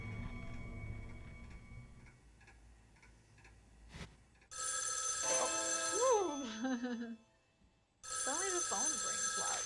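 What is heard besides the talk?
telephone ringing loudly in Spirit Hunter NG video game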